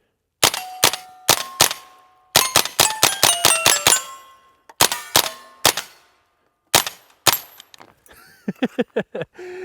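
Shots from a Tippmann M4-22 Micro Elite pistol, a .22 with a red dot, ring off a small 3-inch steel plate at 100 yards: sharp cracks paired with metallic pings, fired singly and in quick bursts, with no voices.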